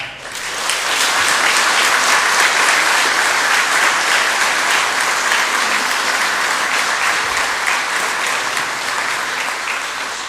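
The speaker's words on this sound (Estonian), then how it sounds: "me kõik oleme väärt just suurt aplausi" Loud, dense applause from a large audience at the Rakvere Gymnasium class of 2013 graduation ceremony, sustained evenly for about ten seconds without letting up.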